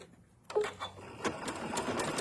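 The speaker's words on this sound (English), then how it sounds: "I'm sewing up to the end." A sewing machine stitches a bath tea sachet, starting after a brief quiet and running in a rapid, steady mechanical patter that is fairly soft and close.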